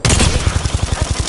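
Rapid automatic gunfire from the Apex Legends battle royale on the Kings Canyon map at night, a steady stream of close, loud shots in quick even rhythm with no talking.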